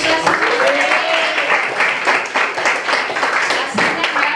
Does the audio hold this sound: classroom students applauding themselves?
yes